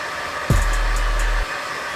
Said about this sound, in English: so I'm gonna just blow dry the whole entire thing